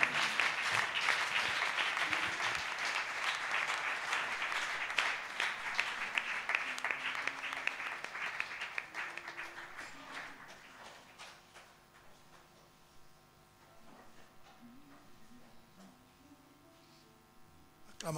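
A church congregation claps loudly together, a dense applause that gradually thins and fades out over the second half, leaving sparse scattered claps and a faint sustained organ-like tone underneath.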